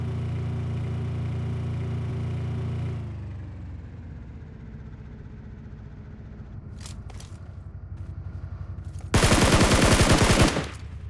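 Tank gunfire in a video game, a loud sustained burst of rapid machine-gun fire near the end that follows a steady engine drone and a few scattered sharp cracks.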